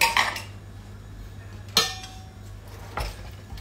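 A spoon clinks against a bowl while chicken tikka marinade with a generous amount of salt is mixed, giving a few distinct metallic knocks spaced over several seconds, close and fairly loud.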